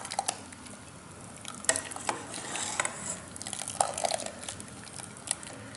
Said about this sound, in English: I've got a lovely spoon with holes to help me get just the curds up